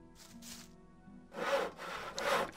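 Wood being sawn in Gothic 1, heard as a few rhythmic back-and-forth rasping strokes, two softer ones followed by two louder, closer ones, with a faint steady hum underneath and no talk.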